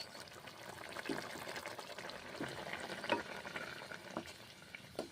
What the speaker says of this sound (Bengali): নেড়ে চেড়ে রান্না করে নিচ্ছি